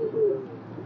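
A pigeon coos in one soft, low, wavering call near the start that fades out within a second, with no other sounds around it.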